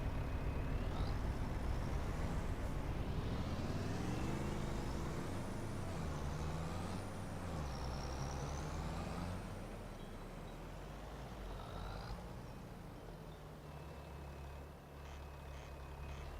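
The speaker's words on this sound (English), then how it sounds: "it's a big tractor" A big tractor's engine in Farming Simulator 25 drones loudly and steadily, its pitch rising and falling in slow sweeps as the throttle changes, with hissing, brake-like bursts near the end and no voices.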